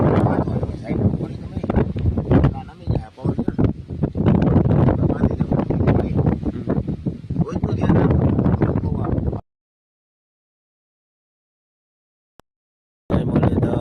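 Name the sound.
wind blowing in a farm field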